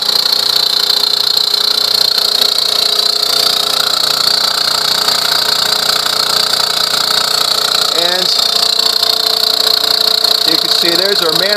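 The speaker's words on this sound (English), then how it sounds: "I'll show you the air compressor." A small air compressor feeding a homemade vacuum former drones loudly and steadily throughout, with a brief wavering tone rising near the end.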